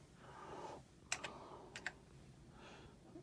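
Keys on a Sinclair ZX Spectrum Plus computer keyboard are pressed in a few sharp, close clicks, two pairs of taps and then a softer press, in a quiet room.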